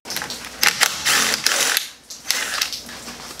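A wrench ratchets on a 15 mm brake bolt on a car, close and clear, a series of quick clicking pawl bursts with short pauses in between, no talking.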